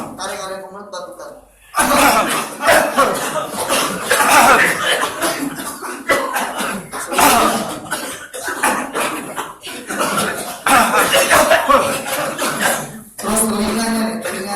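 Group ruqyah session with many people coughing and clearing throats at once, a dense, continuous, loud wash of overlapping coughs filling the room with scattered chuckles.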